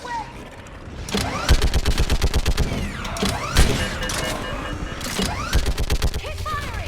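Gunfire in the Mass Effect 3 video game, with loud rapid bursts of automatic fire in repeated volleys, mechanical clanks and whines between them, over battle noise and faint game voices.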